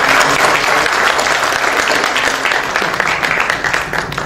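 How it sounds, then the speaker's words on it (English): Loud, sustained audience applause for Dr. Vedji at a ceremony celebrating Professor Puran Singh, a dense crowd of hands clapping steadily throughout and tapering slightly at the end. "Once again, a round of applause for Dr."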